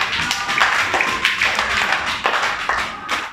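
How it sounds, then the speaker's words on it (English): Playgroup children clap for a classmate, brisk rhythmic claps from a small group that repeat in steady bursts nearby. "Clap for Mashoor, all of you."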